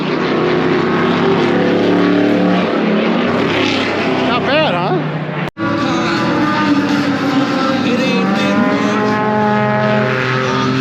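A race car rolls slowly around the outside of a track at a historic racing festival, its engine a loud, steady drone that runs the whole time while a person speaks briefly over it.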